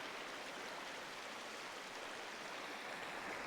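Water flowing beside a riverside campsite, a soft, even, continuous rushing hiss, faint and steady throughout with no voices.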